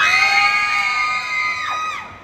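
A theatre audience at a Thai horror film promotional event shrieks on cue, a loud, sustained wall of high-pitched screams lasting about two seconds before tapering off.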